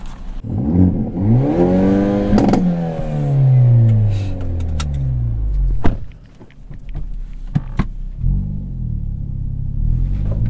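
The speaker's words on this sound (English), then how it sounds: "we're bouncing off the rev limiter" A 2023 Hyundai Elantra N engine revs hard and bounces repeatedly off the rev limiter, giving loud rising and falling sweeps with a sharp cut and pop partway through before revving resumes.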